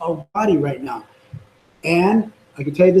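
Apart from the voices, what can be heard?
No everyday noises stand out.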